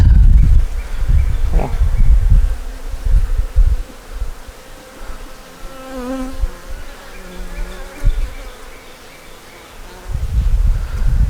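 Honeybees buzz loudly and close by at an open hive, a dense droning hum that rises and falls, with rustling and muffled wind gusts underneath.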